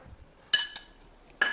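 A steel vessel being set down in a kitchen sink, a few sharp metallic clinks and clanks spaced apart in a quiet room.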